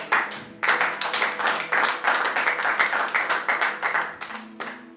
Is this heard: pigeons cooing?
no